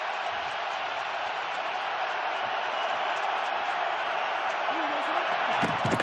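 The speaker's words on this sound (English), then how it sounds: "Here comes the crowd at Lambeau" Huge football crowd roars at Lambeau Field during a Bears vs Packers game, a dense sustained wall of cheering that swells slightly toward the end, with a commentator talking over it.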